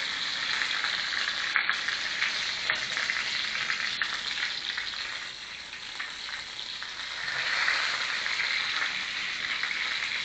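Food frying in too much oil, sizzling loud and steady with a dense, rain-like crackle throughout, dipping slightly mid-way before swelling again, close by with no talk.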